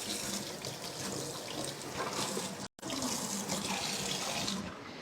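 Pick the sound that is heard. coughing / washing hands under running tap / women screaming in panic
washing hands under running tap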